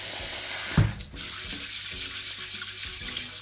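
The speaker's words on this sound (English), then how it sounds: "So we're gonna rinse the rice first. Wash it with water." Running tap water splashing into a bowl of rice, with a brief clatter and soft swishing of grains being stirred.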